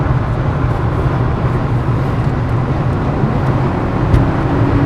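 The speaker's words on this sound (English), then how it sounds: "Nice good downshift." A 1994 Toyota Camry with the 3.0L 1MZ-FE V6 runs on the road with steady engine drone and road noise as the automatic transmission shifts down, heard from inside the car with no clear change in pitch.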